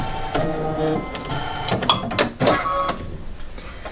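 A single-needle embroidery machine stitches a flower design with a fast, steady mechanical whir that stops after about a second, followed by scattered clicks and light clatter at close range.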